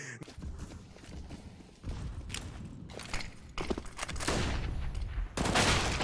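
Rapid gunfire bursts ring out during a Counter-Strike match, with sharp transient shots scattered across the span and growing denser and louder toward the end, alongside light stepping sounds.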